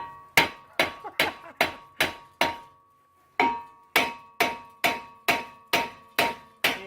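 Repeated sharp metallic hammer blows on a rusted brake rotor of a 2009 Toyota RAV4 ring out in two bursts, six quick strikes, a short pause, then seven more, close and loud with no talking.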